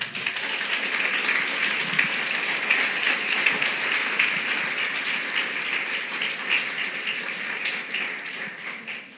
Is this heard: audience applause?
yes